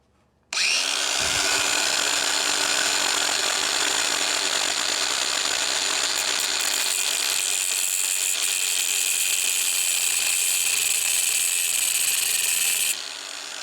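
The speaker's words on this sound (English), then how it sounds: "I got cutoff wheel on the grinder. I'm going to attempt to slice this across the bolt" An angle grinder with a cutoff wheel spins up and slices across a stuck bolt on an Audi S6 cylinder head in one continuous, loud, high-pitched shriek for several seconds before winding down.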